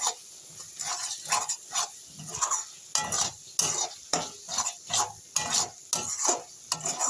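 Ground spices stir-fried with goat fat in a pan, rhythmic spatula scrapes repeating roughly every half second over a low sizzle, close up with no talking.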